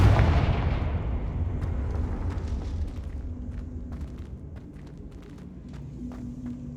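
A Confringo fire spell from Hogwarts Legacy erupts as a loud, deep blast at the start, then rumbles and crackles with scattered sharp impacts and debris as it fades over several seconds.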